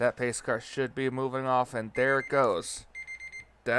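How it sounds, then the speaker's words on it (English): A person talks during a sim racing broadcast of a race at Las Vegas, then after the speech stops a rapid electronic beeping starts, a timer chirping quickly in the background. "the sound you heard in the background was a timer"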